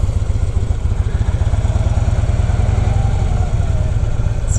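A motorcycle engine loping at low RPM with the clutch slipping, its close, loud, steady pulsing chug carrying a faint clatter throughout.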